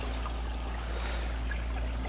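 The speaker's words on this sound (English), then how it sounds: "flowing and gushing and moving on its way just steadily downhill" A stream of water flows steadily downhill outdoors, a constant dense rushing and trickling wash with a strong low rumble, even and unbroken, with no voices.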